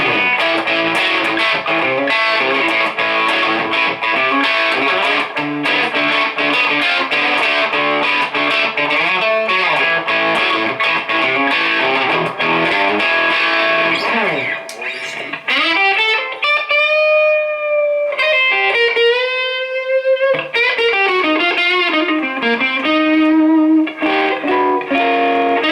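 A Chibson electric guitar through a distortion pedal and Marshall DSL15 amp: heavily distorted chords ring out loud and sustained, then shift to gritty single-note bends and lead lines toward the end.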